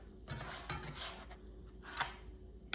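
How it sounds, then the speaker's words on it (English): Quesadillas lifted out of a frying pan: soft scraping and light clinks of a utensil against the pan, a few brief brushy scuffs over a quiet kitchen hum, close but faint, with no talking. "Let's remove them from the frying pan."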